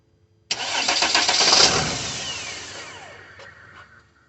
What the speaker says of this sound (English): Actually, I'll give it a couple of cranks.